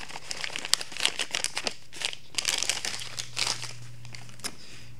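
A bag of dry cake mix is crinkled and shaken as the powder is dumped onto a dish for a dump cake, giving close, rustling plastic crackles in irregular bursts with no talk.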